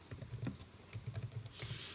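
Code typed on a computer keyboard while building a simple Python calculator application, a quick run of soft, close key clicks in uneven bursts, faint and alone with no talking.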